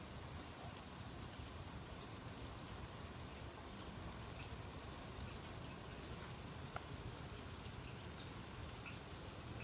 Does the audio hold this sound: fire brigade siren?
no